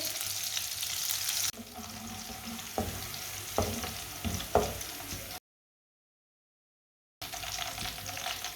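Finely chopped green garlic and onion sizzle in ghee, a steady frying hiss broken by several stirring scrapes and knocks, then a short break of silence before the sizzle returns.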